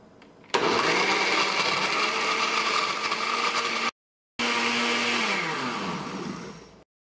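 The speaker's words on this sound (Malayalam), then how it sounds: "ഇനി ജ്യൂസ് മിക്സിയിലിട്ടിട്ട് ഒന്ന് കറക്കിയെടുക്കുക." A kitchen mixer grinder blending pumpkin juice with water, a loud steady whirring motor close by that cuts out briefly, restarts and then winds down.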